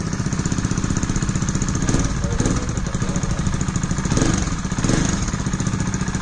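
KTM Duke 250 motorcycle with the dB killer removed from its exhaust idles with a loud, rapid, throbbing pulse, close by, with slight blips of throttle and no talk.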